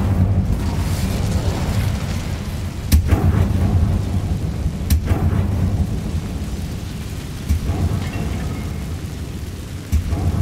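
A fire spell in a wizarding video game erupts in a roaring, rumbling blast with a steady crackling burn and a few sharp thuds, loud and sustained.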